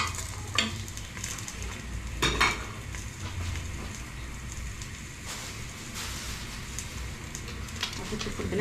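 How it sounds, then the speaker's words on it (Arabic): Onion frying in oil in a pot on a gas stove for harira, a steady close sizzle and hiss with occasional scrapes and clinks of stirring. "نديرو البصله تاعنا تتقلى"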